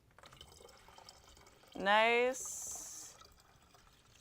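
Water poured from a bottle with a tiny spout to fill a small public fountain model, a short rising gurgling fill with a brief hiss, up close, with a voice briefly speaking.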